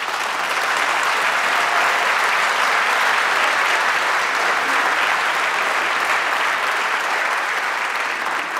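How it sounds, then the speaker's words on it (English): Sustained, even applause from an audience at a photography award ceremony, a dense wash of clapping that holds steady for several seconds with no voices over it. "they deserve a great round of applause from everyone"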